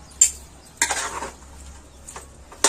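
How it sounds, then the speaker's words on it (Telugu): Spatula scraping and clinking in a pan while stirring a fry of onion, tomato and shredded cabbage: a few short, quiet scrapes and taps separated by near silence. "ఇప్పుడు మనం మొత్తం అంతా ఒకసారి కలుపుకొని మూత పెట్టేసుకుందాం."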